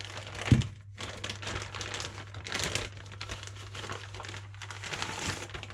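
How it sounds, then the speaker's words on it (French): Packaging being unwrapped from a Stanley No. 62 low-angle hand plane, giving continuous close crinkling and crumpling of paper or plastic with a sharper crack near the start, steady and moderately loud throughout over a constant low hum. "Et ben on va le déballer."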